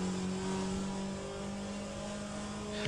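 Porsche race car engine in the Le Mans Ultimate racing game, a steady mid-pitched droning hum held at constant revs, fairly quiet and continuous with no voices.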